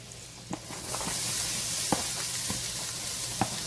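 Chopped onion hits melted butter in a pan and sizzles steadily, a loud continuous hiss with a few sharp pops and spatula clicks close by, no voices.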